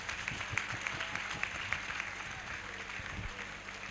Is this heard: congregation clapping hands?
yes